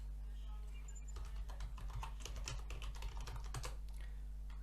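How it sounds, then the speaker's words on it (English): Typing on a computer keyboard comes through as a quick run of close key clicks with a few heavier strokes like the enter key, set over a steady low hum with faint talking in the background. "Hitting the enter button. The keyboard's slowing it."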